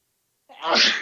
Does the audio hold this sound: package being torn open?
no